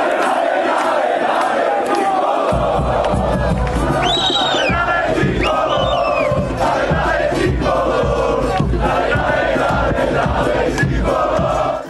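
Criciúma football supporters roar and chant in the stadium celebrating promotion to Série B, a dense, loud crowd din with shouted cries rising above it throughout.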